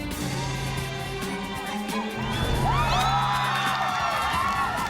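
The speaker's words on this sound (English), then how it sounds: "Yeah, well, you may cheer, but Alan's only halfway across." A studio audience at the Total Wipeout obstacle course cheers and whoops, the crowd noise rising loudly over background music midway and staying sustained to the end.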